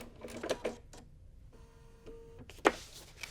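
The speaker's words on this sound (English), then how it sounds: "you can speed up your stitches on your machine" Sewing machine stitching paper-pieced quilt pieces for a flying geese table runner, a short, faint run of steady mechanical whirring between a few soft clicks and taps.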